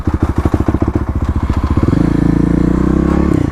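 A Kawasaki KLX351 motorcycle with a misfire fault runs close by after a spark plug change, its engine chugging in uneven pulses before rising into a faster, steadier idle rumble, loud and alone.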